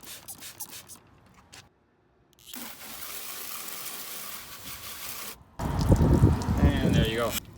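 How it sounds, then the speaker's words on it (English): CarPro Hydro2 coating is sprayed onto a car in short hissing bursts from a trigger bottle, with quieter handling sounds between sprays and a louder, rougher spray burst near the end. "Let's spray a bit more on."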